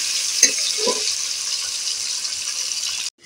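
Capsicum fries in a pan with a steady bright sizzle, interrupted by a couple of soft scraping knocks as the pieces are stirred, before the sound cuts off abruptly.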